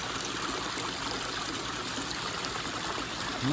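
Continuous soft trickle and splash of water flowing over a small backyard pond waterfall, a steady gentle wash at moderate distance with no voices.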